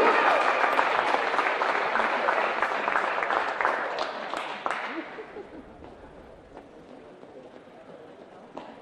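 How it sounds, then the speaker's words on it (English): Crowd in a gym applauds senior players of a girls high school basketball team, a loud wash of clapping that fades after about five seconds into quieter room noise, with a voice faintly over it. "One more round of applause."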